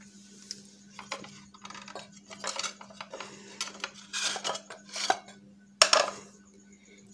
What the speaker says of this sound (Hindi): ये एक कप मैं आपको इसमें रख के दिखाती हूँ